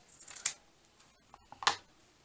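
Scissors cutting paper for a junk journal, two short close snips separated by quiet pauses.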